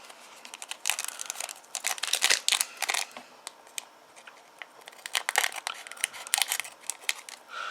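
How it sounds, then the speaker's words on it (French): Scissors snip open trading-card booster packs in quick, close, crisp cuts mixed with the crinkle and rustle of foil wrappers, in uneven bursts with short pauses. "Donc premier booster. Donc je les ouvre au ciseau."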